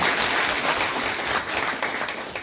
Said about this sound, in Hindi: एक बार जोरदार तालियां आप सभी अपने लिए बजाएं।